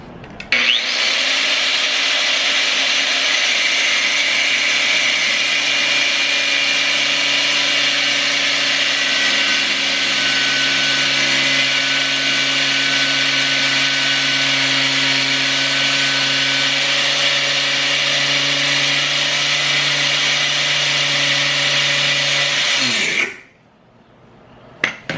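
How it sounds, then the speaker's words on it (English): An angle grinder cuts through stuck outer tie rods during a front suspension replacement, making a loud, continuous metallic grinding whine that holds steady for over twenty seconds and then abruptly stops. "Carefully hold the grinder, guys."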